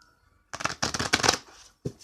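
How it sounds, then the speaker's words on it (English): A deck of tarot cards being shuffled by hand, heard as a few crisp riffling bursts close up, separated by brief pauses in a quiet room. "One more shuffle"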